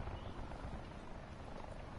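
Helicopter in the Call of Duty Black Ops 4 Blackout video game, coming in to land near a supply drop, giving a steady, dense rotor and engine rumble that holds level throughout without any talk.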